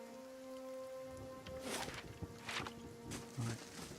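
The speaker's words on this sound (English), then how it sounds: "It's raining." Rain falls steadily in the fantasy role-playing game Pillars of Eternity, a soft wash with a few louder spattering bursts and rustles over a faint background tone.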